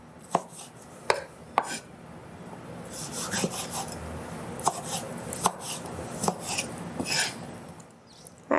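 A knife dices tomatoes on a cutting board with sharp, uneven taps close by. Quieter scraping and rubbing come between the chops, and no one speaks.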